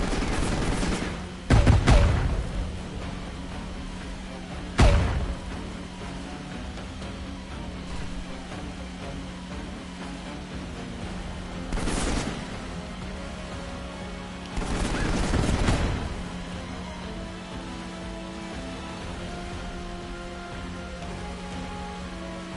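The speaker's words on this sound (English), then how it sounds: "Just bayonet fire." Bursts of video-game gunfire during a bayonet charge, several loud volleys and single shots spaced irregularly over a steady low hum, with quieter crackling stretches between them.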